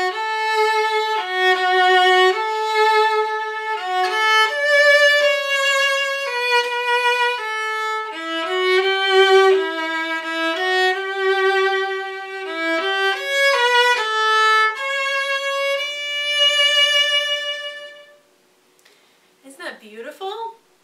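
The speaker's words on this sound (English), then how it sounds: "A lot of people think that the violin sounds like this." Solo violin plays a flowing melody of sustained, singing notes with clear pitch changes, close and full, then falls quiet before a brief scratchy gliding note at the end.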